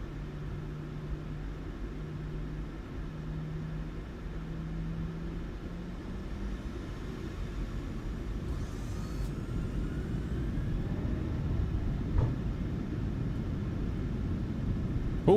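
Airliner jet engines on a Ryanair flight out of Bristol in Microsoft Flight Simulator 2024 steadily build in a broad roaring rumble toward takeoff power, a low tone fading out early and the noise growing gradually louder.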